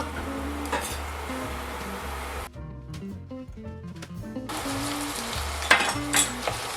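Tomatoes fry in a pan with a steady close sizzle and occasional stirring knocks, while background music plays throughout.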